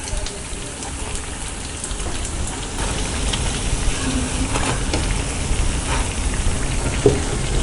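Bread pakoda fries in hot oil in a pan, giving a steady, dense sizzle that crackles evenly and stays close and loud throughout.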